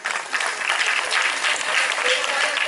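An audience at a talk applauds the event organiser in a dense, sustained burst of clapping that stays loud throughout, with voices faintly mixed in.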